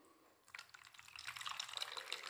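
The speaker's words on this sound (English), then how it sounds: "I'm going to pour that in my ocean" Salty water from a jug is poured into a container holding ice, a quiet trickling splash that starts after a short pause and grows a little fuller as it continues.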